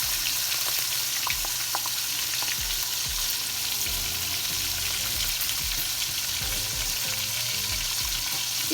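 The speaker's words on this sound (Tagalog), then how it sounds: "Iprito muna natin guys yung isda." Fish fries in a pan for escabeche with a constant close hiss of hot oil, scattered pops and bursts of crackling throughout, and no one speaking.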